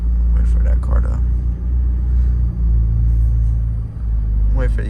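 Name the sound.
cars passing on city street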